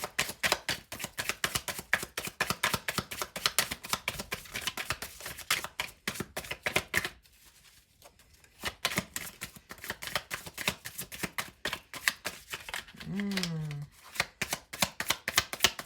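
Tarot cards are shuffled by hand in rapid riffling bursts of close, crisp flutter, with a short pause in the middle before the shuffling picks up again.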